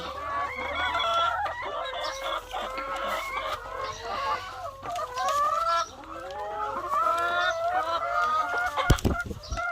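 Hens clucking near their eggs in a laying-hen coop, a busy overlapping chorus of close, repeated clucks and calls throughout, with a brief sharp rustle or thump near the end.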